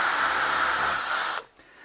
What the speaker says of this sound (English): To locate the holes for the screws, I like to drill them from the groove side.